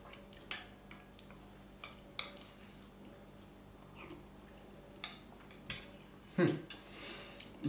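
A metal spoon clicks and scrapes against a Croatian army ration container while scooping soup, a series of sharp, close taps at irregular intervals with quiet pauses between.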